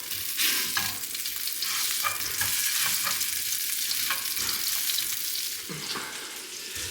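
Sausage sizzles and fries in a pan while being stirred, with a steady, close crackle and scraping sounds throughout and no talking.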